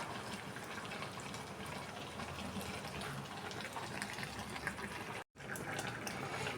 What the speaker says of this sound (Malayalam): ഇപ്പം നമ്മുടെ കറി നന്നായിട്ട് തിളച്ച് വരുന്നുണ്ട്